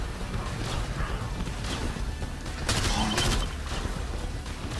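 Enemy gunfire in the fast-paced shooter STRAFE, a dense, continuous rattle of shots with a louder burst of cracks near the middle, steady and fairly close throughout.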